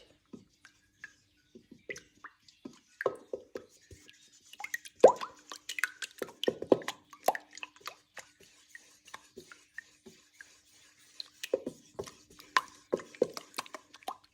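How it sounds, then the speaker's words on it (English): Wet batter ingredients are mixed in a bowl, giving soft wet plops, stirring swishes and light clinks of a utensil in irregular bursts, close and clear against silence. "Mix the mixture together until combined."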